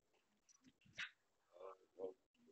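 A dog kept in a cage whimpers and yips in a few short, close bursts, with quiet gaps between them.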